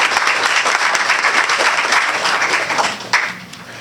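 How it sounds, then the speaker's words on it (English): A large crowd at a student essay awards ceremony breaks into sustained, dense applause honoring the event organizer, clapping steadily before fading near the end. "let's give a big round of applause for Betty Leonin for putting this on"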